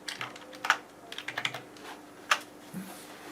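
Computer keyboard keys are pressed in a quick, irregular run of light clicks, including an Alt+Tab window switch, close up and alone in a quiet room.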